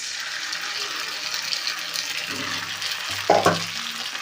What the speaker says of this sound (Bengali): কষানো মশলাটা আলু ভাজার মধ্যে ঢেলে দিই